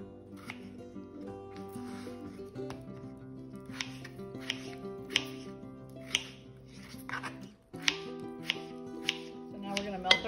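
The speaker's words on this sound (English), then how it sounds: "You just want to slice your potatoes up into like bite-sized pieces." Potatoes being sliced into bite-sized pieces with a knife on a cutting board, a series of crisp, close chops at an uneven pace over soft background music.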